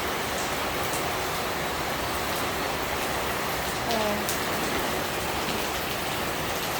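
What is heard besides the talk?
heavy rain falling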